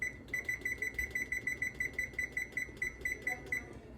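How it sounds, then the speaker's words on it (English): A kitchen timer sounds a rapid series of sharp, high electronic beeps at a steady rhythm, about five per second, close by and fairly clear, with faint background noise and no talking. "I'm going to go ahead and put the timer on"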